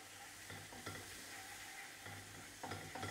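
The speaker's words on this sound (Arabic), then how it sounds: "بدي اضيف مرق لحم واحرك شوي ليمتزجوا مع بعض شوي شوي" Meat broth being stirred into toasted flour in a pan, a steady soft sizzle with intermittent scraping strokes of the spoon, close and fairly quiet, no voices.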